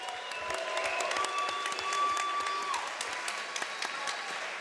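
Crowd applause and cheering after a Muay Thai fight at the Texas Muay Thai Championships, a steady dense wash of clapping with a sustained whistle-like tone running through the middle, fairly loud and continuous.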